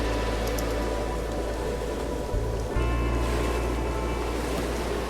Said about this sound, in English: Brace yourselves! The water is rising!